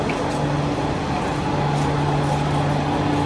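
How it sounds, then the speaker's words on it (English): A train pulling away from a station in Lagos, a steady low rumble and rolling mechanical drone with faint tonal hums, continuous and fairly close, no talk. "That's the train we just came out from. It's moving again."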